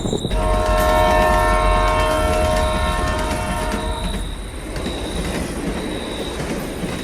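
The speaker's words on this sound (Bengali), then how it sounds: "কয়েক মাইল পথ পাড়ি দিয়ে ট্রেন এসে থামল লেগি গ্রাম রেল স্টেশনে" An animated cartoon train rumbles in loudly with a sustained horn blast and squealing wheels, then settles into a lower rolling clatter as it slows at a village station.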